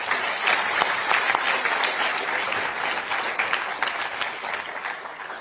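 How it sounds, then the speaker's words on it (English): A crowd at a youth political rally in Toronto applauds loudly and steadily, dense overlapping claps with a few whoops, sustained throughout at close range. "Come on, let's give Adam a round of applause."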